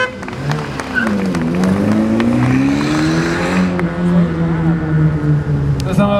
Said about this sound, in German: Mit seinem Ford Thunderbird,